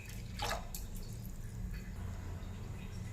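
Water poured into a pan of rasam, a faint splash and trickle near the start, then a quiet watery wash over a low background hum.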